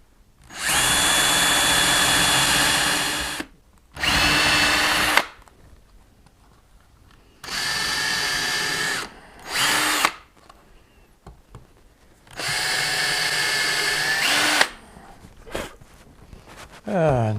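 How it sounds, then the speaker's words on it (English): Power drill boring guide holes in wood for a doorstop, several sustained whirring bursts of a few seconds each separated by quiet gaps, loud and close, with the pitch sliding as the drill slows. "Then we're going to drill some guide holes."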